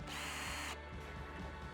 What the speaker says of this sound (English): By flicking this switch, you change the direction that the drill spins in.